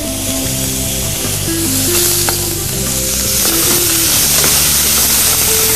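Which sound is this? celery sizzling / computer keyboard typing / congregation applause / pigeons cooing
celery sizzling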